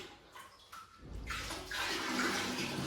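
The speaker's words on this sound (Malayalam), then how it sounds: "പക്ഷെ എന്നാലും നമ്മൾ വിട്ടുകൊടുക്കാണ്ട് ഒഴിക്കുന്നുണ്ട്" A bucket of water being poured into an aquarium for Oscar fish: a steady, broad rush of splashing that grows louder partway through and keeps flowing to the end, with no talking.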